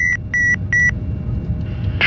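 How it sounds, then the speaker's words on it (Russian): A cargo-compartment smoke alarm in an aircraft cockpit sounds three sharp, evenly spaced electronic beeps over a steady engine rumble, then falls silent while the low drone continues. "Сигнализация, да. Дыма в КД грузовой."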